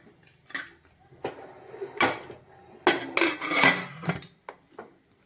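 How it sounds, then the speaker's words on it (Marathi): Metal clanks and knocks of a pressure cooker lid being fitted and closed, several sharp clatters with brief scraping between them, close by. "कुकरला आपण झाकण लावू"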